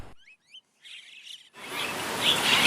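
Wild birds caught in an illegal shipment in South Kalimantan, Indonesia, give a few brief, thin chirps at the start. A rising wash of broad noise then swells and drowns them out.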